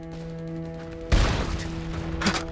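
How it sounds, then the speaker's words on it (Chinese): Gunfire and artillery fire in a war drama battle: after a quiet stretch a sudden loud blast erupts, followed by a dense rumbling roll of explosions and scattered gunshots, with another burst near the end. "我方遭到敌人炮火猛烈攻击"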